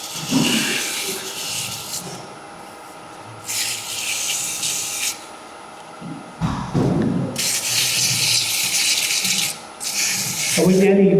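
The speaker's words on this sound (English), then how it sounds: "So to sand the bottom, you put your finger towards the corner and you sand it from the centre upwards." Wood sanded by hand with sandpaper, repeated close rasping strokes in long bursts with short pauses, under a constant background hum.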